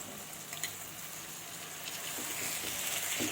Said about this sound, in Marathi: दही घालून त्या भाज्या चांगल्या मिसळून घ्यायच्या आहेत.